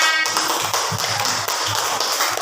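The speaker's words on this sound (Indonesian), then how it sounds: "Tepuk tangan untuk kelompok A." Children in a classroom clap together for a student group, a dense, steady patter of small hands filling the moment without talk.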